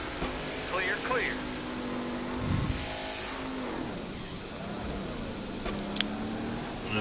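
A race car in a racing video game revs and accelerates on track while running rough, its engine rising and falling under a steady drone as a voice talks over it.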